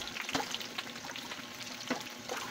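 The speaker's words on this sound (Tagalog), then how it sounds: "kumukulo na po yung ating takbit mga kapiks" A pot of pakbet, a vegetable stew with bitter gourd, eggplant, string beans and squash, simmering on the stove, giving a steady soft bubbling hiss with a few louder pops, close and alone.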